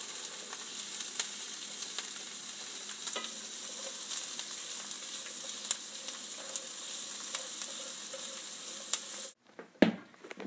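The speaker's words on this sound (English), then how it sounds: "And using a spatula, I'm going to saute them for 3 or 4 minutes until they get tender." Onions sauté in a pan with a steady bright sizzle and occasional scrapes of a spatula stirring them, continuing without a break before a brief clatter at the end.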